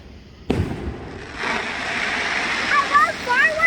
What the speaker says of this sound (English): I love fireworks, but I don't like this sound.